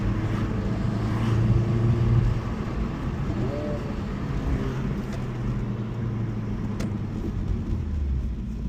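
A 2024 Honda Civic Type R engine revs and hangs between shifts while driving, with a steady loud cabin drone and rumble throughout. A person talks over it.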